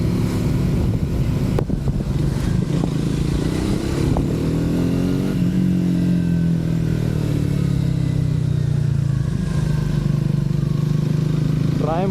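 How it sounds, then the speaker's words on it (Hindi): A Triumph Speed 400 motorcycle engine hums while riding, a steady low drone whose pitch rises and falls with the throttle, with heavy wind buffeting over it the whole time. "ट्रायम्फ का इंजन थोड़ा सा स्मूथ है"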